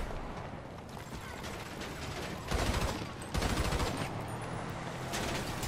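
Gunfire in the GTA V Online video game, with bursts of automatic shots that are loud and dense, including two heavier volleys partway through, over a constant background of game noise.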